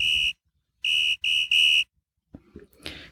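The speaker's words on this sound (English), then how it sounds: "bumper here, a whistle high pitch" A high-pitched whistle used as a podcast bumper sounds four sharp, steady tones, the first alone and then three in quick succession, loud and clean, followed by a few faint clicks and shuffling.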